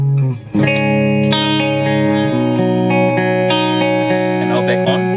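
Electric guitar played through a BluGuitar AMP1 with its boost switched off and reverb on, a distorted sustained chord ringing out after a brief pause, then fresh strums layered over the lingering tone.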